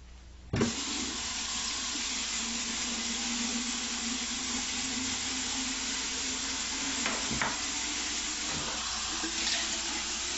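Cold water runs steadily from a tap, a constant hiss and splash after an abrupt start, with a few faint knocks and clinks partway through.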